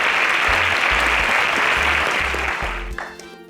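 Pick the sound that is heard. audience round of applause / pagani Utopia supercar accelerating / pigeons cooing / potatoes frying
audience round of applause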